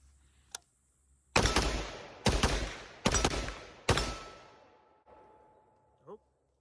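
A Ruger SFAR .308 rifle fired in quick succession: four loud, close, booming shots about a second apart, each trailing a short echo, followed by quieter clicks and a faint metallic clink.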